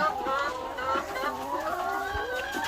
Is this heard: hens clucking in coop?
yes